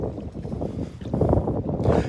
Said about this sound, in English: Ooh, breezy up here.